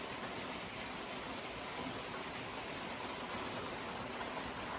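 Heavy evening rain shower pouring down steadily, a dense, continuous hiss with a dull low rumble underneath, loud and even throughout with no voices.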